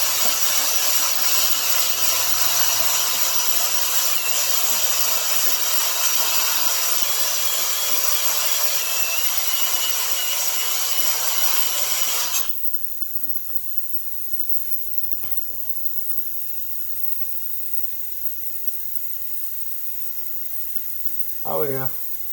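Honing the rusty iron cylinder bore of a McCulloch 1-76 engine: a steady, loud abrasive grinding and rasping drone runs for about twelve seconds, then cuts off, leaving faint clicks and a brief tool noise near the end.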